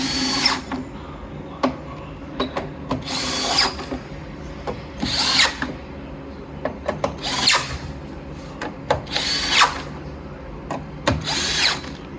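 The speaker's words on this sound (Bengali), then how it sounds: "এখন প্রতিটা নাট টাইট দেওয়া হচ্ছে।" A power drill tightens the nuts on a loudspeaker during assembly, firing in repeated short bursts of whirring with brief pauses between, close and fairly loud, with some metallic clicks and handling noise.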